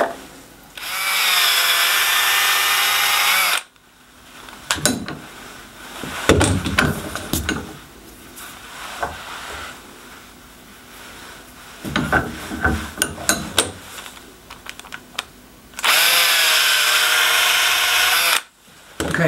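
Power drill boring through plugs in a workshop: two loud, steady whining runs of several seconds each open and close the stretch, separated by scattered knocks, clatter and handling of tools and parts.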